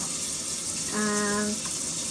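Cold water runs steadily from an open kitchen tap while crispy chicken is being prepared, a continuous close hiss with a brief tonal whine partway through.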